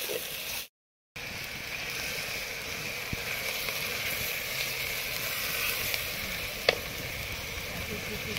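Garlic-ginger paste sizzling in a hot pan over onions cooked to a pink tinge, a steady close frying hiss throughout with a brief gap of silence near the start and a few small clinks.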